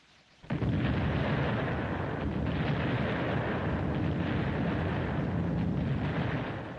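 A sudden heavy artillery boom erupts into a sustained, dense rumble of gunfire, loud and continuous as if from a battle nearby.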